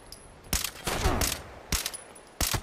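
Gunfire from the video game Fallout 76, with three or four sharp, loud shots or short bursts spaced irregularly over a faint background.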